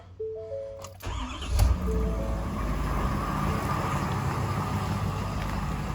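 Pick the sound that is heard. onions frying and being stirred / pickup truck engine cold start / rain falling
pickup truck engine cold start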